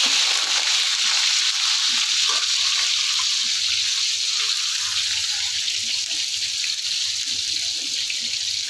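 Sliced eggplant fries in hot oil with a steady, hissing sizzle and scattered crackles, close and continuous with no talk.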